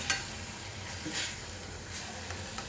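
Spring onion greens being stirred in a hot pan, a soft continuous sizzle with faint scraping and a few light clinks, quiet and close with no talking.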